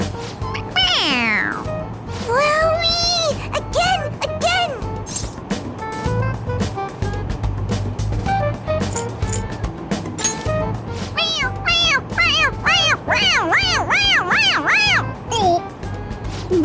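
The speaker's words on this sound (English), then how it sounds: "It meows when you press on its head." A toy cat in Persona 5 Royal lets out repeated high, bending meows when its head is pressed, several in bursts over game music, with a voice talking between them.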